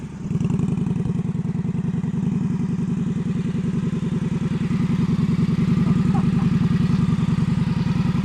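A motorcycle engine putters steadily at low revs during an advanced slow-speed U-turn practice in Maryland, an even, close, rhythmic chug that holds throughout.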